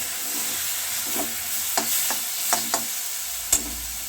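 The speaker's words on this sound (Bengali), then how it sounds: "মশলাটা কষানোর পরে আমি পটল আর আলুগুলোকে ভালোভাবে কষিয়ে নেব।" Pointed gourd and potatoes sautéing with spices in a pan, a steady sizzling hiss with several sharp scrapes and clacks of a spatula against the pan.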